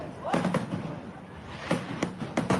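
Fireworks go off in scattered sharp bangs, a few close together near the start and more toward the end, frightening a crowd of monkeys, with voices faintly underneath.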